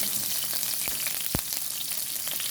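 Garlic frying in a small amount of oil alongside onion in a home kitchen, giving a steady sizzle throughout with two sharp utensil clicks near the middle, close and fairly loud with no talk.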